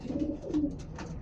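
Pigeons coo close by in a low, soft, throaty warble, a couple of short rolling calls over faint background noise, with no speech.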